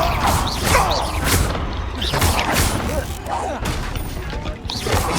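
Confringo blasting spell cast in combat in Hogwarts Legacy, a dense run of crackling, booming bursts that repeat roughly every second, loud and close, with a voice mixed in among the blasts.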